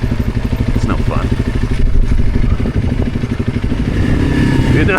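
Offroad motorcycle engine chugging steadily at low revs with a pulsing, rattling thump, loud and close, with a few brief vocal sounds and clatter over it.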